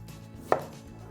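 A knife slices through a piece of apple on a cutting board in one quick, crisp chop, close and alone in a quiet room.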